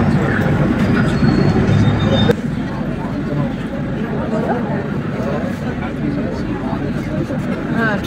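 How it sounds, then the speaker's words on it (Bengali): Kolkata Metro train running between Girish Park and Mahatma Gandhi Road stations: a continuous rumble of the moving carriage with a faint squeal, a sudden drop in level early on, and muffled passenger chatter in the background. "ট্রেন ছেড়ে দিয়েছে গিরিশ পার্ক থেকে, পরবর্তী স্টেশন মহাত্মা গান্ধী।"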